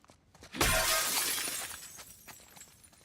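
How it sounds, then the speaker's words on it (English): Glass smashes in The Last of Us Part 2, played on PC: one loud, sudden shatter followed by the tinkle of falling shards that fades over a couple of seconds. "Can I smash this glass?"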